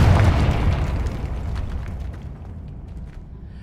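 A single Confringo spell explosion from the Hogwarts Legacy video game bursts loudly at the start, then its booming rumble decays slowly over several seconds.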